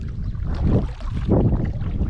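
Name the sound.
wind blowing down the river while kayaking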